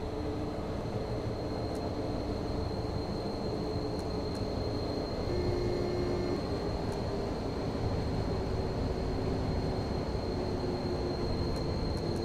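A train in the Zusi 3 rail simulator pulls into Altenbeken station. Its low, steady rumble runs unbroken throughout under a faint high whine, with a few sharp clicks along the way.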